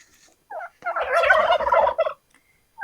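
Farmyard turkeys let out a loud, rapid gobbling call lasting about a second, framed by a few short, quieter clucks before and after.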